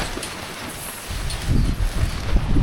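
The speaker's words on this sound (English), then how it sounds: "Look how windy it is." Gusty wind blowing outdoors on a dry, sunny day, a broad roar that swells louder in the second half with buffeting low rumbles, alone with no talk.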